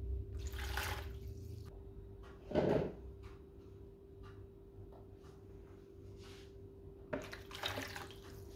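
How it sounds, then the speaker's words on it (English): Warm water is poured into bowls in a home kitchen, with two short splashy bursts of pouring set apart by quiet stretches over a faint steady hum. "so there, we've got our water in these bowls."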